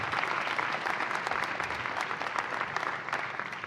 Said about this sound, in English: A big round of applause for Mansa Sustarsik.